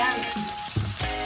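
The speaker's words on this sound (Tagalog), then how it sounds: "One tablespoon ng soy sauce" A tablespoon of soy sauce frying in a hot pan for drunken shrimp, a brief close sizzle with crackles and a stirring clink, light music behind.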